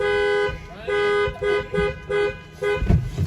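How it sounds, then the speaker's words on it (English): A car horn honks in a series of short blasts with brief gaps, loud and close, followed by some clatter. "Ryan, don't honk the horn"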